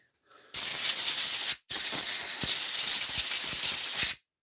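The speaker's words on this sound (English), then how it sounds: "it's cool to spray the brake cleaner in the electronics" Two bursts of aerosol brake cleaner hiss close by, sprayed into power tool electronics, a short one then a longer steady blast after a brief pause.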